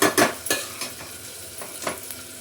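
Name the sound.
spiced masala paste being roasted and stirred in a pan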